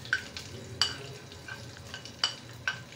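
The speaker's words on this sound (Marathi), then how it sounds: "गरम तेलामध्ये पाव चमचा मोहरी घातली" Mustard seeds, curry leaves and red chilli pieces sizzle in hot oil for a tempering, a soft hiss broken by several sharp pops and crackles at irregular intervals.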